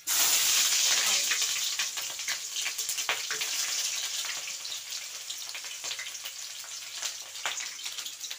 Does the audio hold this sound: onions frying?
yes